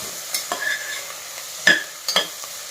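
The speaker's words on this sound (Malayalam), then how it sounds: "നന്നായിട്ടൊന്ന് ഇളക്കി യോജിപ്പിക്കാം." A spoon clinks a few times against a pressure cooker while egg curry with onion is stirred over a low background sizzle, with close, scattered scraping taps.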